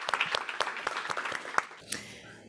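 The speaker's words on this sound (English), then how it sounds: "another warm applause for Matthew" Audience at a green city seminar applauds a speaker, a short burst of quiet, scattered clapping from a modest crowd that fades out within a couple of seconds.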